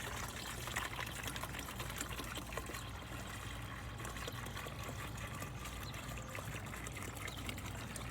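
A gallon of water pours steadily into a jug, a continuous faint gurgling trickle heard close with no talking.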